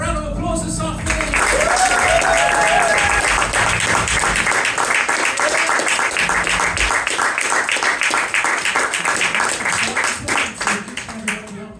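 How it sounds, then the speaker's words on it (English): A large audience at a hypnosis show bursts into loud, sustained applause for volunteers that carries on for several seconds and starts to thin out toward the end. "give our wonderful volunteers a massive round of applause this afternoon"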